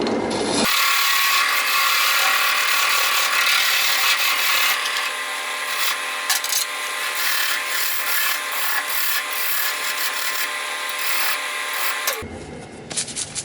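Wood lathe undercutting a bowl blank turned from a tree, giving a loud continuous scraping, cutting roar for most of the stretch, then dropping to a quieter rattle as the tool comes away near the end.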